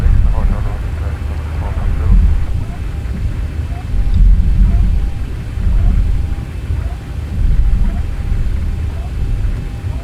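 A Boeing 737-800 in the X-Plane flight simulator rolls for takeoff, a steady low engine roar rising and falling in waves while a voice talks over it.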